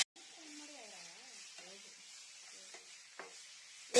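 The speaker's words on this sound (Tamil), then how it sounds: "நல்லா கிளறி விட்டுறலாம்" Brinjal gravy stirred in a hot pan, a steady faint sizzle with a few soft scraping strokes of the spoon, while someone talks over it throughout.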